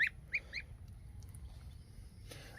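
A few short honking calls from geese near the start, then quieter background with one more faint honk at the end.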